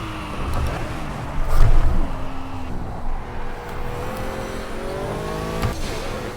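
A Pagani Huayra race car engine in the Project Cars racing game, revving and shifting through gears with rising and falling engine tones and a brief louder surge, heard alone without talk.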